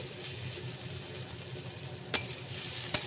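Flattened rice and green chilies are mixed by hand in a bowl, a soft continuous rustling and squishing with two short knocks near the end, and no voices.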